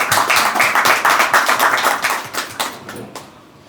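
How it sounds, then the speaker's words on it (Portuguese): An audience claps for a speaker at an event, a burst of loud, fairly even hand claps that thins out and fades away toward the end. "E o Sr. Coronel Andrade da Silva, que também merece uma grande salva de palmas."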